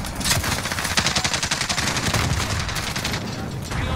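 Rapid bursts of gunfire from the video game Modern Warfare crackle loudly in quick succession for a few seconds, with no voices over the shots.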